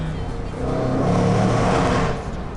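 The V8 engine of a Jaguar F-Pace SVR SUV revs up loudly nearby, a deep throaty roar that swells and then eases off.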